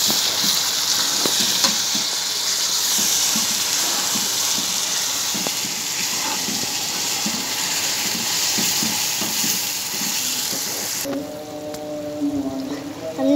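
Onion, tomato, ginger and garlic sizzle and fry in a pan while being stirred, a continuous close hiss with scraping stir sounds; the sizzle drops away near the end.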